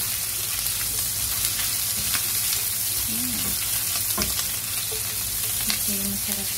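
Half an onion sizzling and frying steadily in a pan as the base of a shrimp and broccoli stir fry, a continuous crackling hiss with no talk over it.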